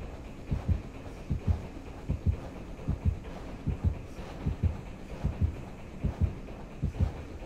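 Heartbeat cue from the Dead by Daylight survival horror game, a steady double-thump pulse repeating about every three quarters of a second, low and throbbing over a faint hum.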